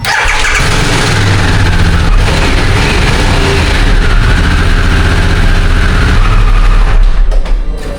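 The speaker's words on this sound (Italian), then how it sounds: "Ho fatto girare la moto." A Harley-Davidson Sportster S engine runs steadily at idle, a loud, continuous low rumble close by with no talking.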